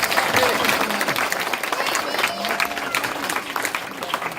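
Audience applause after a Krishna puppet drama performance at a Janmashtami festival, a steady broad patter of many hands clapping at moderate volume throughout, with some voices mixed in.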